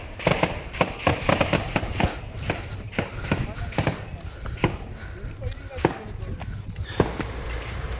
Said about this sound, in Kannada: ಅದು BSF ಟ್ರೈನಿಂಗ್ ಮಾಡ್ತಾ ಇರೋದು. ಗನ್ನಲ್ಲಿ ಹೊಡಿತಾರೆ, ಬುಲೆಟ್ ಶಾಟ್.